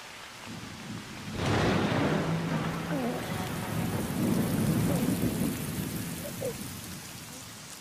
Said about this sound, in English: the rain is a blessing brought by your birth